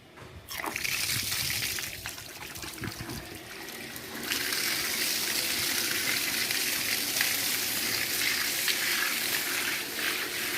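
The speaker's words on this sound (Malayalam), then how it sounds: "ഇനി നമുക്ക് ഇതിന് മേലൊക്കെ കൂടി ഒന്ന് വെള്ളം ഒഴിച്ചിട്ട്" Water poured over a soaped dog during a bath, a steady rushing splash that grows stronger partway through and continues close and loud to the end.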